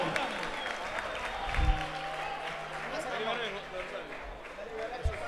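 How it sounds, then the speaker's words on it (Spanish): Audience applause at a live merengue show in a club, a steady broadband crowd clapping that fills the clip with a few louder bursts, with some chatter and voices mixed in. "Un aplauso para..."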